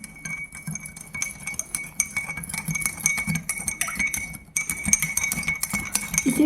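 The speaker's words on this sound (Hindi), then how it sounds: "इसे मैं अच्छी तरह से घोल दे रही हूँ।" A spoon stirs sand into water in a transparent glass, producing rapid, bright metallic clinks and scraping against the glass in a quick repeated rhythm, close and fairly loud throughout.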